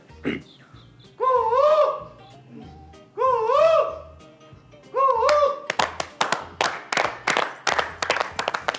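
A voice imitates a koel's rising call three times at a talent show, each swelling whistle followed by a pause, then a burst of clapping and applause.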